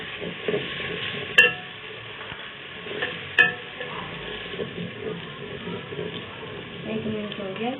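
Ginger and garlic fry in a pan with browned onions, giving a steady sizzle under stirring, with two sharp clinks of a utensil against the pan early on.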